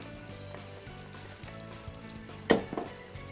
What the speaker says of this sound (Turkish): Tereyağım iyice eridi. Ben şimdi soğanı koyarak işe başlıyorum.